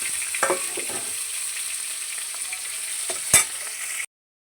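Fish curry bubbling and sizzling in a pan after the fish has been fried, a steady hiss with a few soft stirring clinks and one sharper knock near the end, with no talk, before it cuts to silence.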